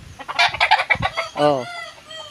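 Chickens cluck and a fighting rooster crows nearby in a busy run of calls, with a voice briefly exclaiming in the middle.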